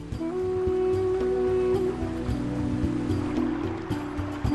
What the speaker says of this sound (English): The river here flows over other sacred icons.